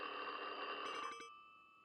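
A telephone rings in the video game Therapy with Dr. Albert Krueger, giving one electronic bell-like ring that sounds clearly for about a second and then cuts off into quiet.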